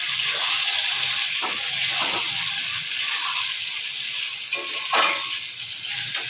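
Mutton kosha, a spiced Bengali meat dish, frying and sizzling steadily in a pan, with a continuous close hiss broken by a few louder spits and stirring scrapes.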